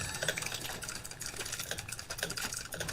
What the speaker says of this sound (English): That's his keyboard, not his mic.